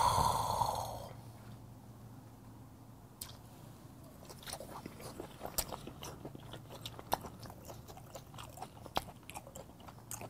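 Close, quiet chewing of fresh red sea bream sashimi, with soft wet bites and small crunchy clicks scattered irregularly over several seconds, no talking.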